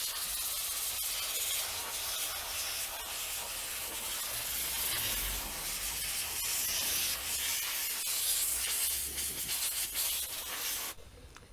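Compressed air blasts a steady, loud hiss across the radiator of a BMW K1600 GTL motorcycle, continuous and close, with faint clicks, before cutting off abruptly at the end.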